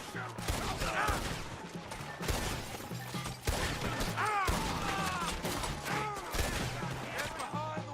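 Gunshots crack repeatedly in a video game shootout in Red Dead Redemption 2, sharp bursts of fire coming close together over music and voices, loud and dense throughout.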